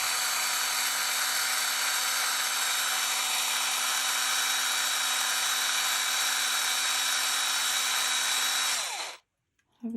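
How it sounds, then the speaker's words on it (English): Power drill boring a hole through a toy building brick, a steady high-pitched whine held for about nine seconds at close range before cutting off abruptly. "we're just going to drill a hole through the brick"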